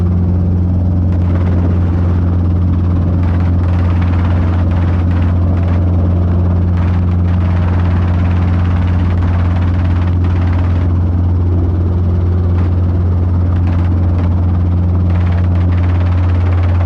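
A Robinson R22 helicopter hovers during a flight lesson, its steady, loud rotor and engine drone running unbroken with a deep low hum and a constant buzzing beat throughout, no voices over it.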